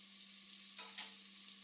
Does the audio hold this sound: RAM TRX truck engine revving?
no